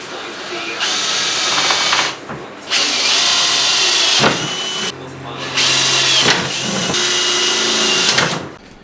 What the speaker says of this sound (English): So we have our holes drilled